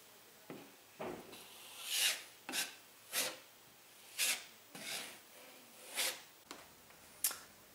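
Drywall patch compound is spread over a wall patch as a second layer, heard as a run of separate rasping knife strokes, about ten of them, close and fairly quiet, each sweep rising and fading with short pauses between.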